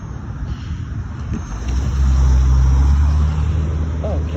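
A car passes on a street, its engine hum and tyre rumble rising to a loud, close peak mid-clip before easing off over steady outdoor noise, with a brief voice near the end.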